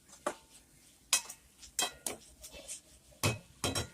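A spoon stirs small fried dried anchovies for kootu in a pan, making sparse, sharp metallic clinks and scrapes that come in irregular bursts over a quiet background.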